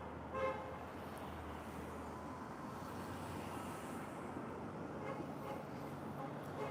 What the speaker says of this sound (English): The freaking bus was just honking!